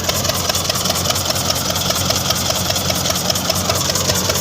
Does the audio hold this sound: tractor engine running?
yes